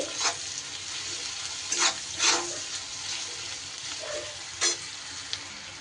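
Chopped onions with salt fry in a pan, a dense close sizzle with a few scraping stirs and clinks of the spoon scattered through, no voices.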